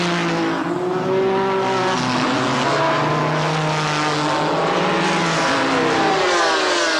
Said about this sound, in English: and also Enzo Calderari and Lilian Briner as they string out on this first lap around Jarama.